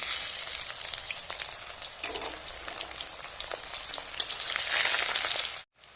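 Onions fry vigorously in hot oil left over from frying potatoes for a duck meat curry, a dense, loud crackling sizzle that runs unbroken until it cuts off abruptly near the end.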